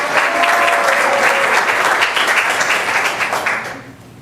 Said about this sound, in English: You can clap. That's okay. It's a small group. We can clap.